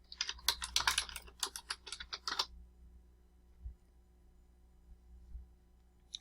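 Quick bursts of typing on a computer keyboard, close and crisp, a flurry of keystrokes for about two seconds followed by near silence.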